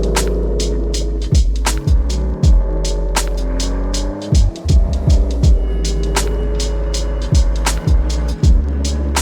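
2018 Aston Martin DB11 V12 driving through city streets, with a low continuous engine hum, repeated sharp clicks and thumps, and a few brief dips as the car moves along.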